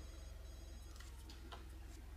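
A phone in The Sims 2 rings faintly with a repeating electronic trill, a short burst of tones over a low steady game hum, and no talk.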